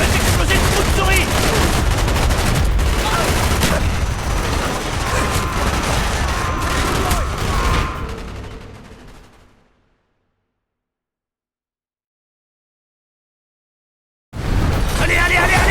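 Rapid automatic gunfire and battle noise from the Call of Duty Black Ops campaign on PC, loud and dense with shouting voices, fading out into silence midway before the combat din abruptly returns.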